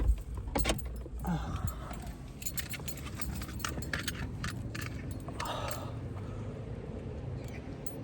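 Car keys jangling in several short metallic bursts as someone gets out of a car where they are spending the night, close and fairly soft, with a brief spoken exclamation.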